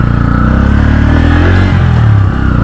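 A new Bajaj Pulsar N160 motorcycle engine hums loud and steady while riding, with a brief dip and a rising rev near the end.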